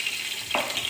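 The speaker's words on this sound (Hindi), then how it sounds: "ये देखिए हमारा लहसुन अदरक सौते हो गया।" Garlic and ginger, a tablespoon each, sautéing in hot oil for a chicken spinach curry, a steady close sizzle with a brief stirring swell partway through.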